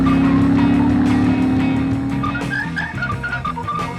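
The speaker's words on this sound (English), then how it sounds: "the exhaust note through those dual pea shooter pipes is pleasant but certainly not overwhelming" A 1986 Royal Enfield Cast Iron 350 or new Classic 650 exhaust through dual pea shooter pipes, a steady close engine drone with a strong low tone, easing slightly in loudness, with no talk.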